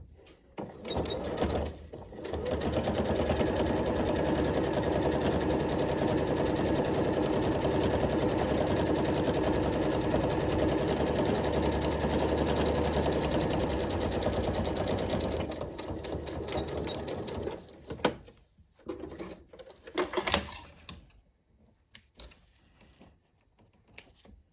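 Domestic sewing machine stitching fabric potholders, running in one steady continuous whir for about fifteen seconds, then stopping and giving a few short bursts with handling clatter, close and fairly loud, with no talking.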